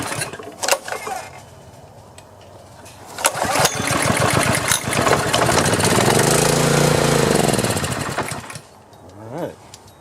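A Honda GX200 small petrol engine with choke on sputters through a few cranks, catches and runs loudly for several seconds, then dies away with a short rattle.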